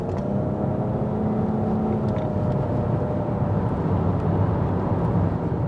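Inside a Nissan Qashqai hybrid cruising on a highway, a steady low engine and road drone fills the cabin, constant and even with a smooth hum and faint wind hiss.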